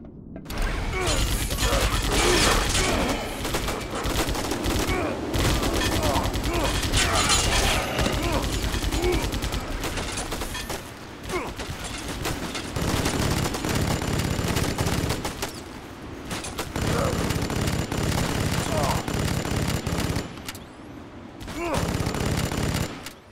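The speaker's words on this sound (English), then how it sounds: "The Gauss goes through the ammo like a wildfire" Sustained rapid gunfire from a Gauss gun in a video game, loud and nearly continuous with a few brief pauses, mixed with mechanical clanks and booms.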